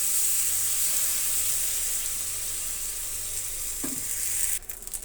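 Dosa batter sizzles on a hot pan for a restaurant-style onion dosa, a loud steady hiss that holds evenly, then a sharp scrape near the end as the sizzle drops off.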